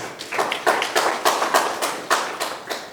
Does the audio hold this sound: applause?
yes